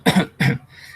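A teacher demonstrates a cough in a language class: two short, forceful, close coughs in quick succession followed by a brief breathy tail.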